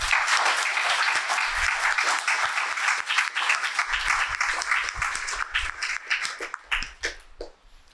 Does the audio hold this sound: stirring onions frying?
no